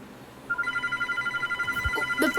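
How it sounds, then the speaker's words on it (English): A telephone rings in a repeating electronic trill that starts about half a second in and keeps going, fairly loud and close, with a low thump near the end and no one talking. "Oh, the phone!"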